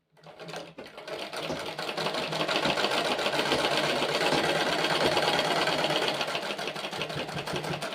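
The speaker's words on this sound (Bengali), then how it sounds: "আমি একটু ডবল সেলাইও দিয়ে দিচ্ছি" A sewing machine double-stitches the seams of men's underwear, starting with a short burst, then settling into a continuous close rapid whirring hum that runs to the end.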